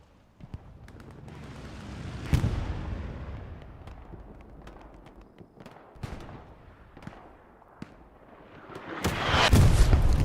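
A rocket fired during a Hell Let Loose match near Carentan train station, heard among scattered gunshots and distant explosions, with a sharp blast early on and a louder roaring burst near the end.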